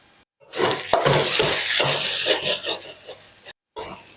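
Food sizzles and crackles in a hot pan while being stirred, with scraping bursts, close and loud, pausing briefly near the end.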